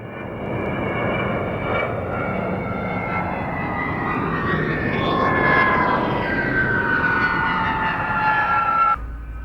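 A Lockheed C-5B Galaxy military transport flies past at an air show, its jet engines giving a loud, sustained roar with a rising and falling whine as it passes, then cutting off abruptly.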